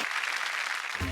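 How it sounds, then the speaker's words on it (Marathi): Loud audience applause from a Marathi television comedy show, a dense steady burst of many hands clapping across the whole short moment, with a faint voice starting at the very end. "जोरदार टाळ्या होऊन जाऊ दे"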